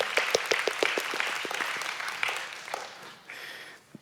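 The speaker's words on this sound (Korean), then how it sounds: "그래도 저희 박수로 한번 환영하겠습니다" A church congregation applauds to welcome visitors during a Sunday worship service, a burst of many hands clapping together that thins out and fades over a few seconds.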